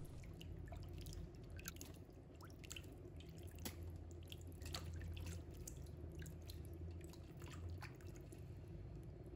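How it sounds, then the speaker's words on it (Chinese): Chicken wings, chicken feet, gizzards and pork trotters rinsed in water in a kitchen, with steady dripping and splashing over a low background hum, no talking. "先把鸡翅、鸡脚、鸡胗、猪脚清洗一下，把它们清洗干净"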